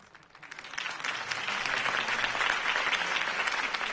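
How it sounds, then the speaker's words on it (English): A crowd applauds a political campaign speech in Gotham in Batman: The Telltale Series, with dense, steady clapping that swells in over the first second and holds at a moderate level. "If only Mr. Wayne, my campaign's largest backer, could have heard that applause"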